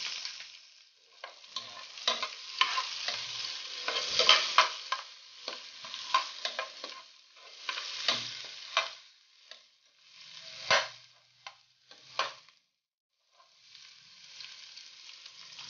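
Onions sautéing in a pan with garlic, a crackling sizzle broken by repeated scraping stirs, loud up close with brief quieter pauses and no talk.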